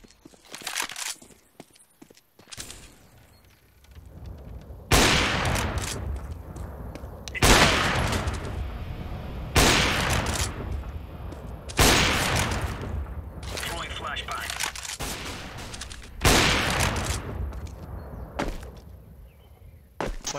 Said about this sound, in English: Throwing flashbang.